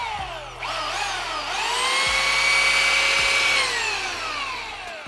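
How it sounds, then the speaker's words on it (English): A power sander runs steadily over an epoxy ocean chessboard, a loud, continuous whirring drone with a rising pitch that holds and then slowly tapers, with no talk over it. "We started with 150 grit on the belt sander and worked our way up to 800 on the orbital sander."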